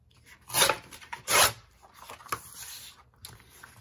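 Scrap paper torn along a ruler edge for a journal craft, a few close, quick rasping rips with short pauses between them, no talking.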